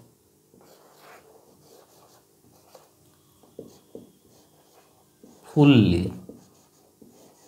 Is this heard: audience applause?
no